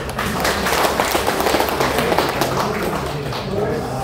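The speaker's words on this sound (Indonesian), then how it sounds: "Tepuk tangan." An audience applauds at a chapel blessing ceremony, a dense, steady burst of clapping that lasts several seconds.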